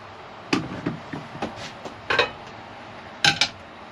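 A metal pan being set down on an antique-style trivet gives several short clinks and taps, a few spaced knocks followed by brighter metallic clatters near the end, close by and fairly quiet with no talking.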